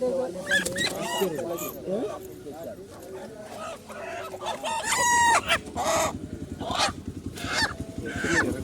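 A rooster crows loudly amid clucking and honking fowl at a chicken market, with people talking nearby in a busy, crowded setting.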